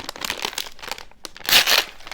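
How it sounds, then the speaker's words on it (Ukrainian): Crinkly plastic of a sterile dental instrument package being torn and peeled open, a few short rustling bursts with a louder crackle near the end. "розкриваємо стерильний пакет показуючи пацієнту, що це стерильний інструмент"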